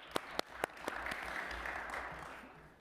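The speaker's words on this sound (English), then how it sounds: "we'll give him an applause anyway" Applause at a New York City Council fire and emergency committee budget hearing, a few sharp claps first and then a steady, moderate patter of clapping from the room.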